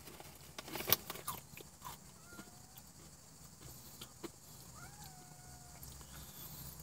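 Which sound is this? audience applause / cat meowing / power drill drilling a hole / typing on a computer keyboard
cat meowing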